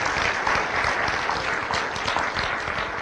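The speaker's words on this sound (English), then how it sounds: "Give yourselves a round of applause." Youth poetry contest attendees clapping for themselves, a steady, even wash of applause from a sizable crowd, close and sustained with no voices on top.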